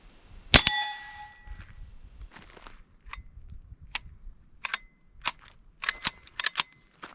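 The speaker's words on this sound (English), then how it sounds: "Let's go ahead and fire this last round." A single suppressed .22 gunshot through a SilencerCo Sparrow 22 suppressor, a sharp crack with a brief ringing tail, followed by lighter metallic clinks and clatter of the firearm being handled.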